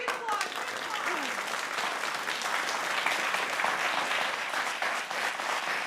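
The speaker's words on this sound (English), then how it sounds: "big applause, big applause" An audience breaks into sustained applause in a concert hall after a studio countdown, a dense steady wash of clapping that fills the whole stretch.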